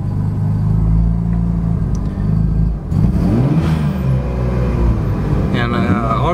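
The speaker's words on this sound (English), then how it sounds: "now that the car is somewhat warmed up, it's starting to idle for me." A Mazda FD RX7 with a rotary engine idles after warming up, a loud, low, uneven burble with a short dip partway before the rumble picks back up, while a person talks over it.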